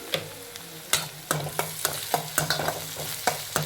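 Poha tempering fries in a pan over low gas, a steady soft sizzle broken by repeated sharp scrapes and clinks of stirring at an uneven rhythm, close and alone.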